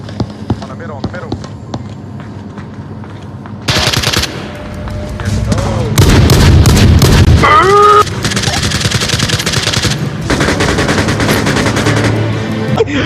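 A shotgun fires loud, sharp blasts in a few bursts, close by and ringing out among excited voices talking throughout.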